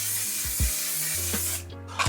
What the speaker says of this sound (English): I'm going to spray with some One Size spray.